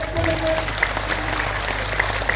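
An audience at a large Islamic memorial gathering and prayer event in Madiun, Indonesia, claps steadily throughout, a dense patter of hands with a voice briefly audible at the start.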